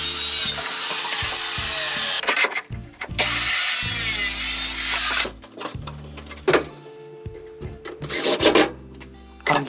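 Laminate floor offcuts being sawn for a workshop mounting frame: uneven bursts of rasping saw strokes, some long and loud, others short, separated by quiet pauses and small knocks, close by.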